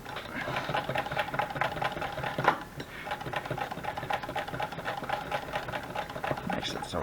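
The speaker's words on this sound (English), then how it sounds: "it wasn't a hand crank sewing machine" A hand crank sewing machine runs steadily, its rapid rhythmic mechanical clatter continuing throughout at moderate level, with a brief louder knock partway through.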